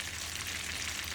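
Grated garlic fries in a pan with a steady, soft hiss and sizzle that carries evenly through the brief moment.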